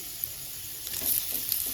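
Chopped tomato and green chili go into onions frying in oil for aloo dum, setting off a close, steady sizzle with light stirring.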